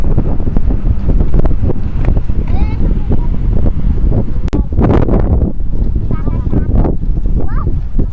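Strong wind buffets the microphone at a lakeshore hotel, a loud, continuous roaring rumble with gusty surges, while people talk faintly underneath.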